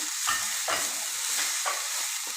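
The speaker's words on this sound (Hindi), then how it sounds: "अब इन सब्जियों को थोड़ा अच्छे से हिला लीजिए।" Chopped vegetables and green chillies stirred in hot oil for a vegetable kabab mix, a steady close sizzle broken by four rhythmic scraping strokes of the spoon, with no voices.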